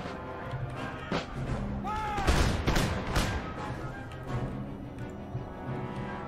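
Musket volleys thunder across a battlefield in Empire: Total War, with several broadband crackling bursts of massed gunfire swelling and overlapping, loud and close, over a constant battle din.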